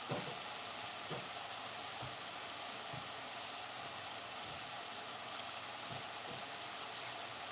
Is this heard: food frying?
yes